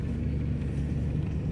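Steady low engine rumble and road noise fill a car cabin while driving on a rainy, slightly windy day, constant and close with no voices.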